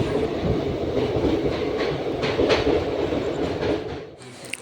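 A train pulling out of New Alipur station, rolling with a steady close rumble and rattle of coaches and faint rhythmic wheel clatter, easing off at the end.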